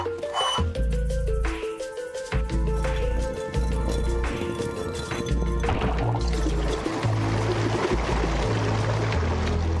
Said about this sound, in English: Sounds like someone flushing the toilet.